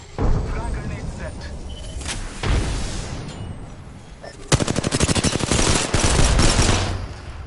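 Rapid automatic gunfire in a shooter video game with thermite and frag grenades: loud bursts and a dense, fast-rattling volley of shots, with game noise and voices underneath.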